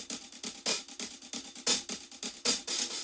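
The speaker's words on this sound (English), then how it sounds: "So after that, I added a few more percussions," Added percussion layer in an FL Studio Indian trance track, a quick steady pattern of bright, hissy hits with softer ticks between, moderately quiet with no voices.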